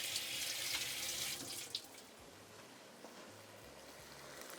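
Tap water runs steadily from a kitchen faucet into a sink while hands are washed mid-cooking, a loud continuous hiss in the first half that softens to a quieter flow with no talking.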